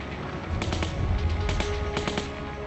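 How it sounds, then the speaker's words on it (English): German machine gun fire on the Normandy beaches in 1944 during D-Day, heard as three short, rattling bursts over a low, rumbling wartime background. "machine gun fire."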